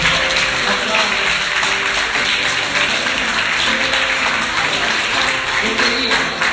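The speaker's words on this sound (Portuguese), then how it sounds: "Aplauda Nossa Senhora. Aplauda." Congregation applauding at a Catholic preaching service honoring Our Lady, a dense, continuous wash of many hands clapping at steady loudness.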